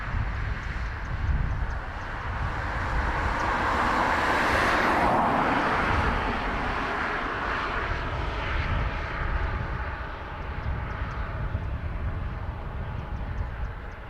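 A small commuter airliner bound for Rochester, New York roars down the runway and climbs steeply away at Dublin Airport, a loud, broad jet rumble that swells near the middle and then fades slowly as it recedes.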